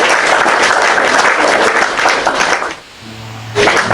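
Dense applause from a crowd fills most of the moment, loud and steady, then drops away briefly before a short burst of clapping returns near the end, with faint low tones underneath.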